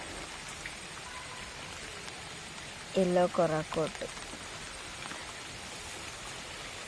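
Steady rain patters over a small home garden in a continuous soft hiss, with a voice speaking briefly in the middle.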